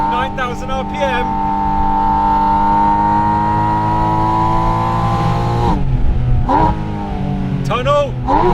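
A Porsche 718 Spyder RS engine screams at high revs, a loud sustained whine that climbs steadily, then drops through quick gear changes with sharp bursts, heard up close alongside brief speech.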